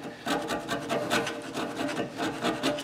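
Rust chunks are scraped off the front brake of a Cadillac ATS with a scraping tool in quick, repeated rasping strokes, close and steady with no talking.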